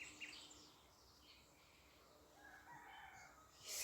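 Faint bird calls outdoors, including a distant rooster's crow, rise above a quiet background with no talking.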